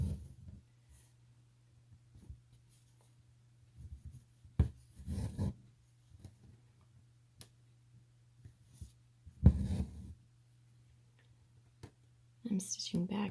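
An embroidery needle and thread draw through taut fabric in scattered soft rubs and pulls, with quiet pauses between stitches and occasional low speech.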